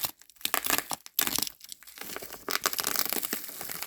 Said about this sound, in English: I'm not sure why this is saran wrapped